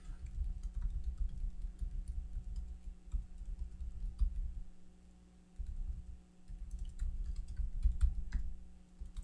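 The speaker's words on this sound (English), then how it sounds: "So I can click in there and type my responses." Computer keyboard keys tapped in quick, uneven bursts while typing responses, soft and close, with a brief lull midway over a low background hum.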